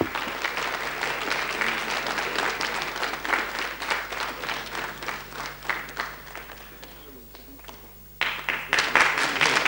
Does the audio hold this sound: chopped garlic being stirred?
no